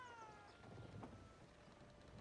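A cat meows in the Red Dead Redemption 2 video game, a faint cry with a falling tone near the start, then one short call under a steady low background hum.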